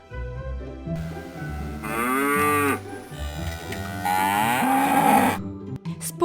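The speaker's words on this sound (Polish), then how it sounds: "A krowa będzie jadła trawę i da nam dużo mleka." A cow on a farm gives several drawn-out moos, near and fairly loud, one after another over a low background.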